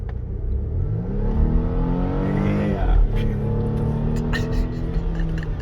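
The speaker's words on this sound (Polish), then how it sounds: "Przyspiesza niesamowicie." A 2020 Volvo XC60 accelerates hard on the road, the engine note climbing steadily in pitch with a smooth rising whine, heard from inside the car at moderate loudness with some voice underneath.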